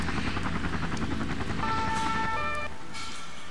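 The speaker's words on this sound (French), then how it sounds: "J'ai un hélico qui veut pas décoller je crois." Helicopter engine whirring in the video game Emergency 4 as it tries to take off, mixed with wailing emergency sirens and game sounds, continuous and fairly loud with no talk.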